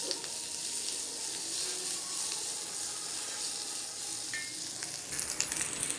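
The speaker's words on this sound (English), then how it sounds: "Saute this till the onion is translucent." Chopped onion and green chili sautéing in a pan, giving a steady, soft hiss of frying that carries evenly throughout, with a few light clicks near the end and no voices.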